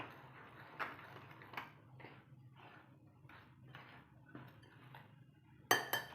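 Spoon clinking and scraping against a metal bowl while turmeric is stirred into gram-flour batter, a handful of separate taps and clinks, fairly close and quiet, ending with one sharper knock.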